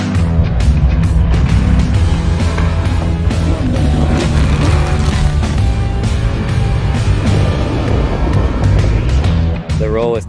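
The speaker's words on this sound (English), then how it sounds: "We're out here in a quarry and just get to slide the truck around and get some good footage." A Super Truck engine roaring loud and close as it slides around on gravel in a quarry, a continuous revving drone with crunching texture and a voice talking over it.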